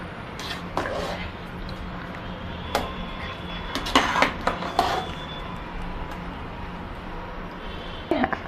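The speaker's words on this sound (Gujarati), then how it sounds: "આપણે બધું માખણ તપેલામાંથી એક વાસણમાં કાઢી લેશું." A spoon scrapes and knocks against metal as butter is transferred from one pot into another vessel, giving irregular clinks and scrapes close by with quieter pauses between them.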